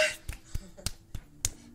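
Several sharp hand claps, spaced roughly a quarter second apart, close and fairly crisp against a quiet background.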